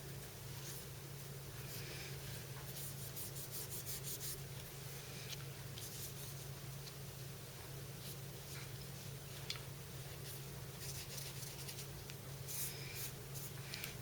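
A cloth rubs steadily over the metal of a Sig Sauer P226 pistol, wiping away excess lubricant with a soft continuous scrubbing and a few faint ticks, close and quiet throughout.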